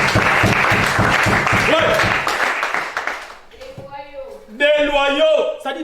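A church congregation applauds in rhythmic clapping for about three seconds, then the clapping fades out and a voice speaks over the quieter room.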